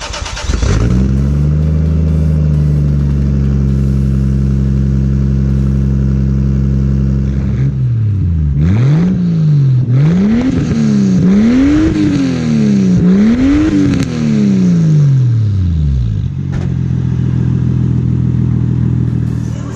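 A Toyota Supra sports car fires up with a loud exhaust roar, then settles to idle before several sharp rising-and-falling revs, close and loud, with no talking.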